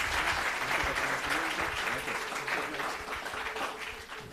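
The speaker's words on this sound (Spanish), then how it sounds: "le damos un aplauso" Audience at a computational creativity colloquium applauding after a talk, sustained even clapping from a crowd that tapers slightly toward the end.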